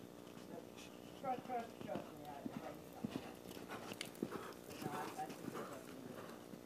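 A horse canters during upper-level dressage training, its hooves thudding in a soft, fairly faint repeating rhythm under an instructor's voice.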